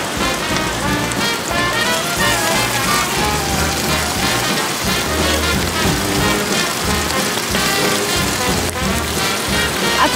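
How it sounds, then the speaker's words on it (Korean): Pork belly sizzling in a mini frying pan at a rainy valley car-camping site, a dense, steady crackle that continues without a break and sounds much like rain. A low hiss runs underneath. "이 빗방울 떨어지는 소리랑 프라이팬에 삼겹살 굽는 소리 다 똑같은 것 같아"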